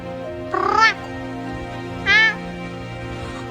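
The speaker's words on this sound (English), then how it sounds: "Finding your missing cat on a random walk after 5 weeks is one of the luckiest" A missing cat, found on a walk after five weeks, meows twice, each a short, clear, fairly close cry about a second and a half apart, over quiet background hum.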